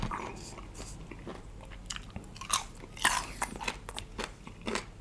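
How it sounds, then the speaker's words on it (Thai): Crunchy salt-pickled mango bitten and chewed up close, a series of sharp crisp crunches and wet chewing with louder bites near the middle and end. "เดี๋ยวเรามาลองกินแบบดองเกลือโบราณกันครับ กรอบได้ใจมาก"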